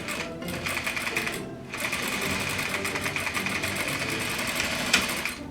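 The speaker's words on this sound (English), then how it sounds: "So I will literally be sewing these on a curve." A sewing machine runs at steady speed stitching fabric pieces for a girl's Regency dress along a curve, with a close mechanical whir that pauses briefly near the start and then resumes without talk.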